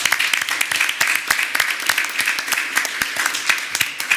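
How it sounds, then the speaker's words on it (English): Small audience at a business meeting giving a round of applause, many distinct hand claps in a steady, moderately loud patter that continues for several seconds. "Let's give Dr. Houston another round of applause."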